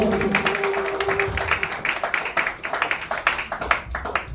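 A church congregation at a Telugu Friday worship service claps hands together in quick, rhythmic bursts at close range, with a sustained voice or tone underneath at the start.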